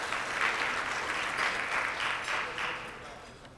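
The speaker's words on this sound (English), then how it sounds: "Let's give them a round of applause for those upcoming birthdays." Rotary club lunch meeting audience clapping at a moderate distance, a dense even patter of many hands that holds steady and then begins to taper off near the end.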